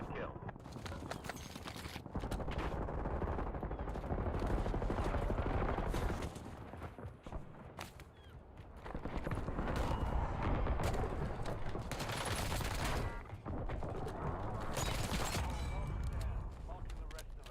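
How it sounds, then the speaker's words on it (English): Gunfire in Call of Duty: Warzone, with dense bursts of automatic fire and scattered shots in clustered volleys across the whole stretch, fairly loud and continuous with brief lulls. "Who is he shooting at?"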